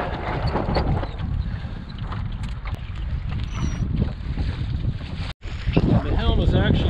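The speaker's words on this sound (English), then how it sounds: "Here comes some breeze." Breeze sweeps over a small sailboat under way with a gaff rig and jib, blowing a gusty, rushing wind across the microphone amid water noise, with a brief dropout near the end.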